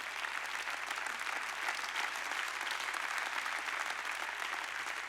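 A church congregation keeps clapping during a sermon, a steady, even wash of many hands at moderate level with no break or voice over it.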